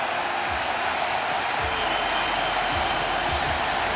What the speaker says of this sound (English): And here comes the crowd back into it.